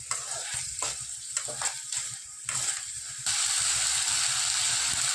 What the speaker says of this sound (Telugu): తర్వాత టమోటా, అల్లం వెల్లుల్లి పేస్ట్ వేసుకోవాలి. బాగా కలిసేటట్టు కలుపుకోవాలి.